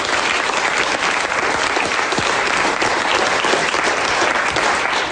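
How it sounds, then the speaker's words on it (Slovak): A studio audience breaks into loud, dense applause, with sustained clapping of many hands at full strength throughout and no pause. "Potlesk pre vás."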